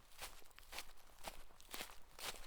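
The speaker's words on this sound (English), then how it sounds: "Even their own footsteps sounded too loud." Soft footsteps crunch at an even walking pace, several steps in a row, fairly close and quiet with no voices.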